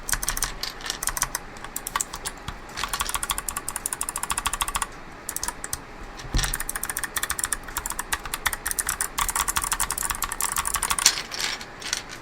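Rapid clicky typing on a rebuilt MX-mini mechanical keyboard, dense steady keystrokes close up, continuing alone with a brief pause near the middle.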